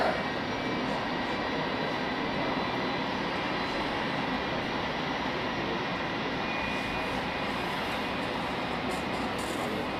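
Lufthansa City airliner on final approach at Hamburg Airport, a steady, continuous broad roar of jet engine noise that holds level throughout, with no voices.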